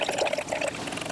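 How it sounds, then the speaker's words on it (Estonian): Water pours steadily into a hydroponic nutrient solution, a continuous close splashing and gurgling stream that stays loud throughout. "Paneme siis siia liitrit vett juurde"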